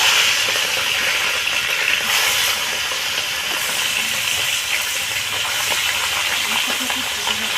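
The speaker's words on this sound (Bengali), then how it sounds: "এবার আমি তেল গরম হয়ে গেছে, মাছগুলোকে ভেজে নেব।" Tengra fish frying in hot oil, a steady, dense sizzle and hiss that holds close and even throughout with no talking.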